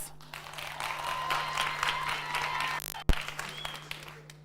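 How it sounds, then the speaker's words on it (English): A crowd at a live beauty pageant applauds steadily, a dense patter of many hands clapping at moderate volume, with a brief sharp thump near the end. "I think we deserve a clap for that."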